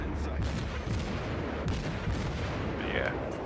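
Naval guns boom in World of Warships, heavy battleship artillery rumbling in dense overlapping salvos with a low sustained roar, loud and continuous through the short stretch.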